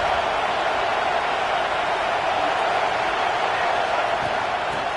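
Steady, dense roar of a stadium crowd in a college football video game, a constant broadband wash of cheering that holds at an even, fairly loud level throughout with no voices standing out.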